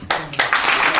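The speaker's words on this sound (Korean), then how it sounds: "박수" Applause breaking out at a ceremony awarding certificates for passing the evangelist exam, a short burst of close, bright hand claps in quick uneven bunches.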